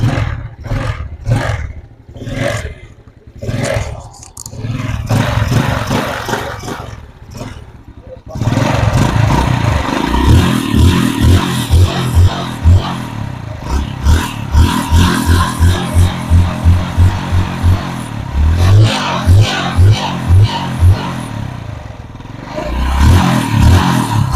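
Motorcycle engine after a tune-up, first idling with sputtering pulses, then loud close revving as the throttle is opened repeatedly in rising, falling bursts, with speech over parts.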